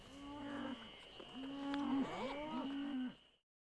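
Japanese Shorthorn beef cattle out at pasture give a series of long, wavering moos, moderately close and alone before fading into silence.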